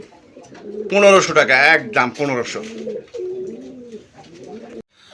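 A pair of jet-black Mukhi pigeons coo in repeated low, throaty rolls close by, while someone talks over them for much of the time.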